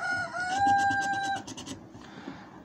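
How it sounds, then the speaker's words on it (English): A rooster crows loudly and close during a Loteria card game, one long drawn-out call with steady harmonics that cuts off, then a few softer trailing clucks. "Das Rooster."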